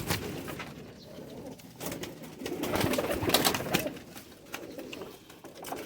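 Patti wale pigeons coo softly at close range, low rounded calls repeating over a faint background of rustling and scattered chirps.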